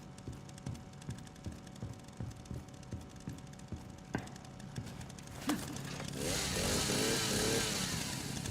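A video game chainsaw in Resident Evil Requiem revs up and roars steadily after a stretch of irregular clicks and thumps, growing loud and sustained toward the end.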